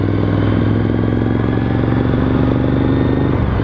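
A motorcycle runs at steady speed on a local Sunday ride, its engine giving a constant close rumble and drone for the whole stretch, with no voices.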